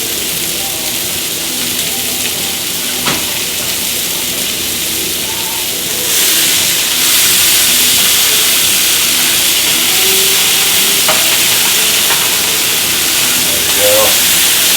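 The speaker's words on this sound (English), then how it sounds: "I like to cook them right here on this flat top." Smash burgers fry on a flat-top griddle with a loud, constant hiss and sizzle that swells partway through, a few faint clinks and scrapes sounding beneath it.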